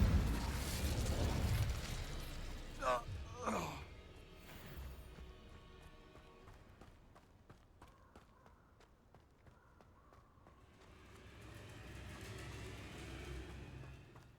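Confringo spell explosions burst in a Hogwarts Legacy fight, a loud blast at the start followed by popping impacts, footsteps and fading rumbles, with little talk.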